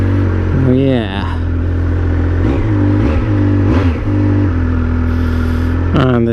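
A Triumph Speed Triple 1200 RS motorcycle engine idles loudly and close by, with a deep steady rumble and several quick rising and falling revs, while someone talks over it.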